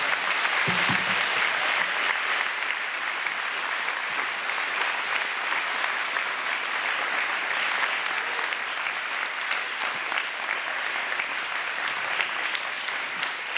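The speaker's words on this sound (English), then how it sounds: "Let's give one more round of applause for all of our attendees." Sustained audience applause at a Martin Luther King Day all-school assembly, a broad wash of many hands clapping steadily from a large crowd, slightly distant and even throughout.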